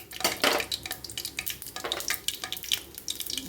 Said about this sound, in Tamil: இப்போ கடாய் போட்டு எண்ணெய் சூடாயாச்சு. இதில் கடுகு, ஒரே ஒரு வரமிளகா,